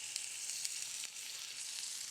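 Spinach sauce spiced with garam masala sizzles and bubbles softly in a pan, a quiet, steady crackling hiss with a few sharper pops and no talking.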